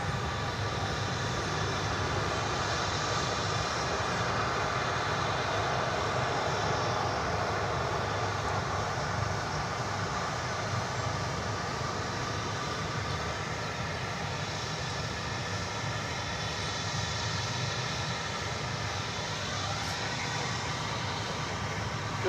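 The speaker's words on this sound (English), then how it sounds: "American Eagle Flight 4030 and Embraer 175 arriving from Mobile, Alabama." An American Eagle Embraer 175 jet airliner arrives at DFW Airport, a steady, moderately loud engine rumble and whine holding through the whole stretch, distant-sounding and without any voices.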